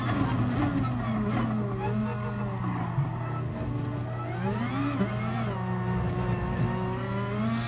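A Super GT race car at Fuji in the GT Sport video game, its engine whining steadily with pitch rising and falling through gear changes, loud and continuous with no talk.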